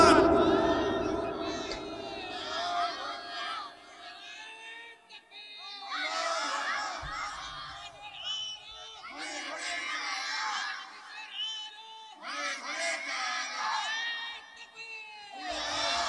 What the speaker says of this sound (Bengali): যদি রাজি থাকেন একটা জোরে তাকবীর দিয়ে আল্লাহকে খুশি করান।